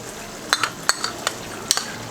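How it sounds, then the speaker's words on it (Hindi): Cream being stirred into chicken white korma gravy in a pan, with a handful of quick spoon clinks and scrapes against the pot over a soft sizzle. "थोड़ा सा मिक्स कर लेंगे।"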